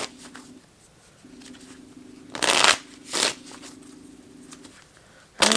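A deck of playing cards shuffled by hand, several quick riffling bursts separated by pauses over a faint steady hum, close and alone.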